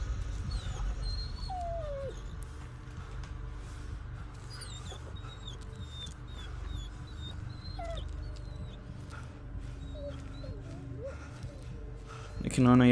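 Dog whimpering in the horror video game Blair Witch: faint, high, wavering whines come several times over a low ambient rumble while someone talks.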